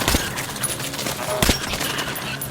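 Gunfire in the first-person shooter Metro Last Light Redux, a few sharp shot bursts, the loudest near the start and the middle, over a busy, noisy game soundscape.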